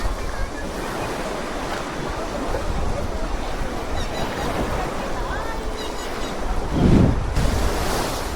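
Ocean waves roll onto Bharatpur beach in the Andaman Islands as a steady wash of surf with wind buffeting the microphone, and a louder gust or wave swells near the end.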